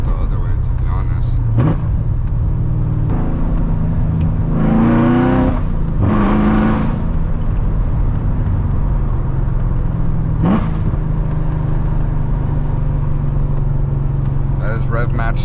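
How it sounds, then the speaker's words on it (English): A loud manual Corvette C7 Z06 rev-matches on a late-night drive, its engine blipping sharply twice in quick succession over a steady cabin drone, with another short rev later and someone talking throughout. "This rev match, bro, is so good."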